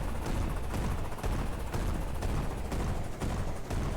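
Dense gunfire from Close Combat 2, a wartime strategy game: a continuous rattle of rifle and machine-gun shots with dull booms, steady and fairly loud throughout, no voices.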